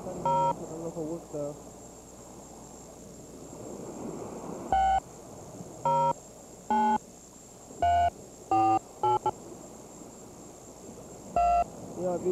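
Telephone keypad dialing tones sound as about ten short, loud beeps in an irregular rhythm over a steady background hum, with a person talking early on.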